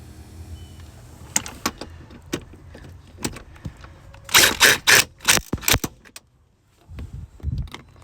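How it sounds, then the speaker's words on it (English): Power seat motor in a 2017 Jeep Grand Cherokee SRT runs in short whirring bursts amid clicks and clunks of work inside the car, close and moderately loud. "Would you move the seat forward, please?"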